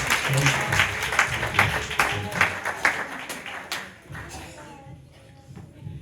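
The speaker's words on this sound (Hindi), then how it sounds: "प्रभु के वचन के लिए ताली हो जाए।" Church congregation applauding after a sermon reading: dense, steady clapping for about four seconds, then tapering to scattered claps and shuffling, with speech mixed in.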